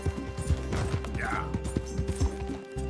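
Horse hooves in Red Dead Redemption 2 beat a steady clip-clop gallop under a voice, with a short whinny partway through and game ambience behind.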